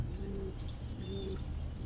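A caged pigeon gives two soft, low coos close by over a steady background hum.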